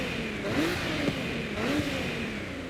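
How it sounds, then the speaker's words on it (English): Race-turbo car engine in Forza Horizon 5 revs steadily at mid pitch, with a couple of rising whooshes of turbo spool and a hissing, whistling top layer, loud and continuous with no talk. "So you guys already know what the turbos sound like on this for race."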